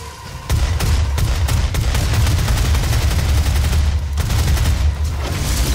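Tommy gun bursts in the Doom video game, loud continuous rapid fire with a heavy low thump, starting abruptly after a short quiet moment and hammering on for several seconds.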